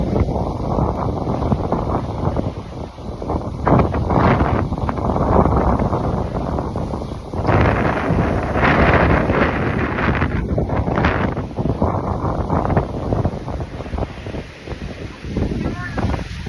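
Strong wind and rain from bad weather in New Zealand buffet loudly and roar in gusts, mixed with rushing water and crashing waves, while a person talks over the noise throughout.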